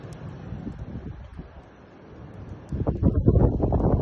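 A winter windstorm at 6,000 feet with heavy snow roars through the timber in low gusting rushes that swell and grow louder toward the end, buffeting the microphone.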